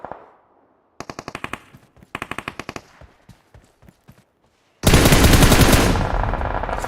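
Gunfire in the video game PUBG Mobile: rapid bursts of automatic fire in several clipped volleys with short gaps, then a loud sustained roar of heavier shooting that swamps everything, close and intense.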